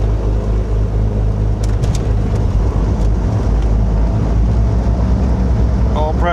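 A G58 aircraft engine starting with the throttle cracked, a heavy low rumble that builds and holds, with brief clicks early on and a voice speaking near the end.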